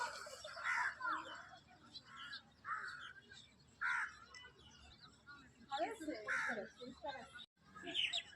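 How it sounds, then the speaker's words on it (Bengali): Common myna birds call in the dim pre-dawn at a coastal bridge in Bakkhali, West Bengal: scattered harsh chattering notes repeating at a distance, faint over a low background hum. "দেখুন কত শালিক পাখি।"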